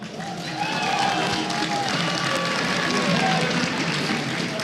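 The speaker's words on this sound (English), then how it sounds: "Everyone, let's give him a round of applause." A crowd applauds StarCraft II finalist Life on stage at the IEM 2017 Taipei event, with steady, dense clapping and cheering that swells after the first second and holds throughout, with a voice faintly audible underneath.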